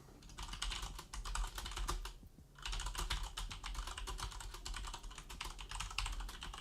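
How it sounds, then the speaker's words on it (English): Steady typing on a computer keyboard, with rapid close key clicks in a dense stream, one brief pause partway through, then continuous typing again at low level. "I'm typing right there"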